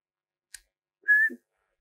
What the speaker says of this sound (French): C'est le 1 second sifflement challenge